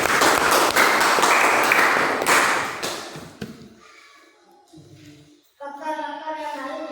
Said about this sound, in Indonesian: Tepuk tangan dulu untuk Fajar